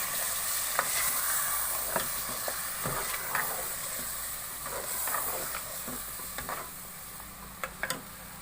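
Whisked yogurt and water are stirred into meat frying in a pot on a stove, giving a steady sizzling hiss. Clinks and scrapes from the spoon against the pot come through at intervals, and no one speaks.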